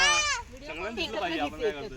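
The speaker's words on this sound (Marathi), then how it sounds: "चल मस्त बकरी आहेत" Goats in a farm field: one lets out a loud, wavering bleat up close at the start, then people talk while more bleating carries on beneath.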